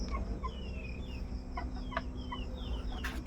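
Chickens cluck nearby in short repeated calls over a steady low background hum.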